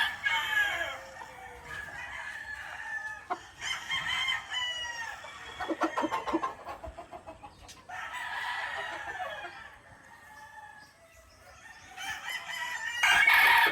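Six-month-old Boston Roundhead cross Machine Kelso gamecock crowing at a game farm, several loud, close crows with clucking and other fowl calls in between, no talk.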